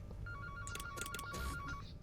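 A telephone rings in repeated electronic bursts within a horror video game set in a childcare center, clear and fairly close over a low background hum.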